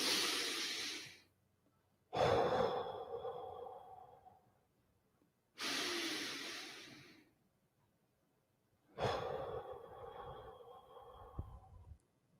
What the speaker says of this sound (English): We call it box breathing.